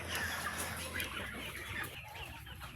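Crossbred native chicken, a Rhode Island mix, clucking softly and continuously in a farmyard, fairly faint against steady background noise.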